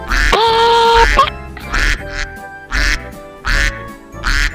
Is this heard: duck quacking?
yes